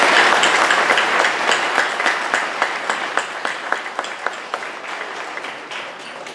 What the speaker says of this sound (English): I still want to give them a big round of applause for their achievements.